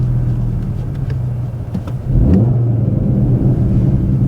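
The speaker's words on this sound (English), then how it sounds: "Listen to them burbles." An Audi RS3 8Y engine rumbles with a steady low exhaust burble, swelling louder midway as it revs slightly, then settling into a deep continuous drone.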